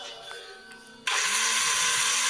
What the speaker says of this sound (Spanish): primero te voy a conectar la licuadora porque así no funciona